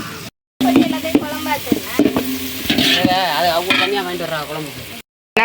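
Chicken pieces for biryani sizzle and fry in hot oil in a pan while being stirred, a steady crackling sizzle with scraping stir strokes and brief silent gaps at the start and end.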